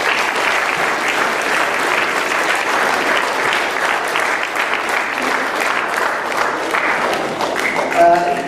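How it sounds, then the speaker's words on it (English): An audience at a junior football club presentation day applauds, a steady, dense wash of many hands clapping with no break, with a little crowd noise near the end. "So can we give ourselves a little clap?"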